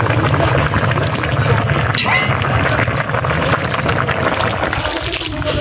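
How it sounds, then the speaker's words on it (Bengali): Water poured as broth onto stinging catfish cooking in a pot on a clay stove, giving a loud, steady rushing and bubbling wash throughout. "এখন আমি ঝোল দিয়ে দিব"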